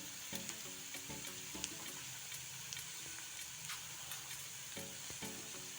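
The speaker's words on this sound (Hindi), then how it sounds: "प्याज को गुलाबी होने तक भून लेंगे।" Chopped onions sizzle steadily while frying in a pan for matar malai paneer, a continuous close crackle with faint clinks and stirring scrapes underneath.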